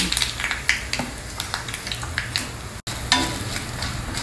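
Mustard seeds, urad dal, cumin and hing frying in hot oil, a steady loud sizzle with scattered popping crackles and occasional utensil scrapes, one brief dropout midway.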